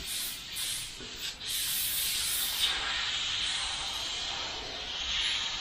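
A high-end airbrush sprays paint in a steady, close, continuous hiss that holds throughout with only slight dips, and no one speaks over it.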